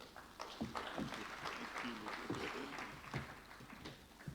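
Faint applause from an audience at a business summit after a prayer, scattered clapping at a distance and fairly quiet, mixed with a murmur of voices.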